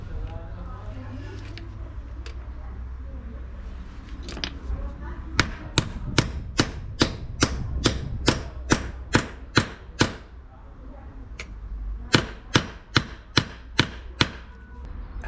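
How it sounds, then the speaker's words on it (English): A hammer drives a vehicle U-joint into place against its circlip during a roadside repair, sharp metallic strikes in a quick regular run of about a dozen, a pause, then another fast burst, over low talk and background hum. "Now with the circlip in, we continue hammering."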